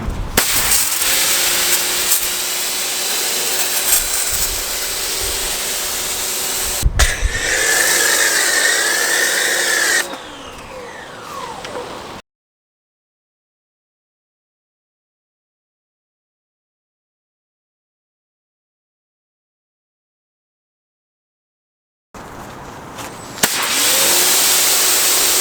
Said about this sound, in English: using the foam cannon with the soap and then just rinsing it back off